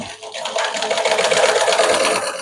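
A sewing machine stitches a blouse in a fast, even mechanical whir of rapid needle strokes, close and loud, running steadily for a couple of seconds with no talk.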